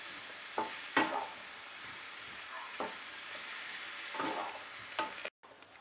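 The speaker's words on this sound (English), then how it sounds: "Stir fry for another 1 minute" Mushrooms stir-fried with turmeric, red chili powder and green chilies in a pan, a steady soft sizzle broken by several scraping stirs of the spoon, close and moderately quiet, with no talking.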